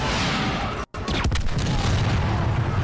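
Explosions rumble continuously through a Star Wars Battlefront 2 battle. After a split-second dropout come a few sharp cracking blasts. Loud, dense booming fills the rest of the stretch.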